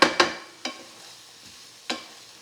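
A utensil stirs and scrapes browning vegetables in a pot roast pan as the bottom deglazes: four short, distinct stirring scrapes, each fading out quickly, with a faint sizzle underneath and no talking.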